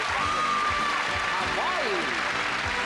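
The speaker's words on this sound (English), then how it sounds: "Round of applause for the lovely lady" Audience applause on a television magic show stage, a steady dense wash of clapping throughout while a voice speaks over it.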